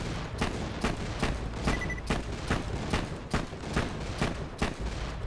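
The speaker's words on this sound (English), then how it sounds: "This is a fire gun." Rapid repeated gunfire from a fire-elemental weapon in Borderlands 2, a steady rhythm of sharp, loud shots about every quarter second over a continuous crackling, rumbling game backdrop.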